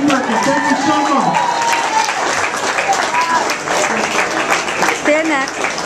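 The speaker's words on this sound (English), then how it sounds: "Let's give her a nice round of applause." A crowd at a Town Day honoring applauds Betty Gerkens, with sustained clapping and light cheering throughout and voices speaking over it.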